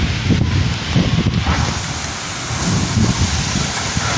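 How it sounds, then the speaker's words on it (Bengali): Storm rain pours down steadily, a dense close patter with a low, gusty rumble underneath. "সেই সময় দেখি বৃষ্টি এসেছে"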